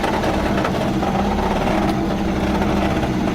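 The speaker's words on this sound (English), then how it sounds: "why the engine's hiccuping is because I'm probably out of gas" A 1972 VW Super Beetle's engine, running low on fuel, drones and sputters with an uneven mid-pitched rumble, steady and close throughout with no talking.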